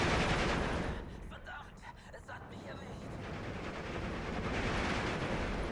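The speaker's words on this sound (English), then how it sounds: "This unit though taking MG fire from what, 6, make that 8 MG 42s." Several German MG 42 machine guns fire at once in the World War II strategy game Steel Division 2, a dense, continuous roar of rapid gunfire that dips briefly and then swells again, heard at a distance with no talking.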